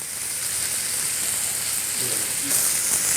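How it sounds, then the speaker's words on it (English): Tuna sears without oil in a hot induction pan, a steady, fairly loud sizzle and hiss that holds even throughout and brightens slightly near the end. "so we're going to let that sear up"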